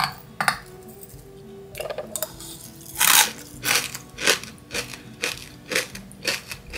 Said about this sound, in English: Now let's do the crunch test.